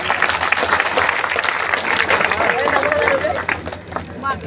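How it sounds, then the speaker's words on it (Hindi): Rally crowd at a gathering in Amarethua, Jaunpur, claps loudly in welcome, a thick sustained wash of hands mixed with crowd voices and murmur. "उन सभी टीम के नाम पे जोरदार ताली बजा करके स्वागत करिए"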